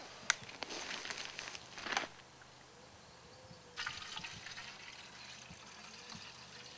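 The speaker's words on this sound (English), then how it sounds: "So put your water in." Water poured into an aluminium Kelly Kettle outdoors in woodland, faint splashing and trickling in a couple of short bursts separated by a quiet gap.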